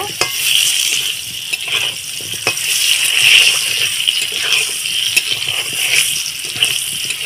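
Pumpkin frying in a pan, a steady close sizzle with occasional scraping and knocking from stirring, moderately loud and continuous, with no speech.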